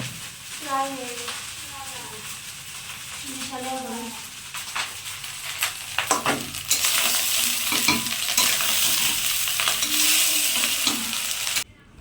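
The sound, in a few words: rice being fried in a pan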